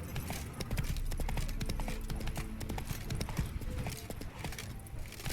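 The horse Roach trots steadily in The Witcher 3, with rhythmic clip-clop hoofbeats sounding close and continuous, with a brief whinny and faint speech and game sound underneath.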